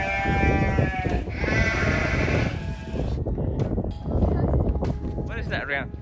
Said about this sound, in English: The sheep are calling me.